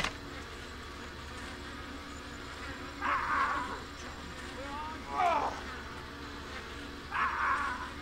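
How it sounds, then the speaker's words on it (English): Insect buzzing from bees in the hunting video game Cabela's Dangerous Hunts 2, three brief droning swells spaced a couple of seconds apart over a steady low game ambience. "It's bees."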